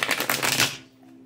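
Tarot cards being riffled in a quick burst of dense crisp flicks for about two thirds of a second, then stopping abruptly, leaving a quiet room with a faint steady hum.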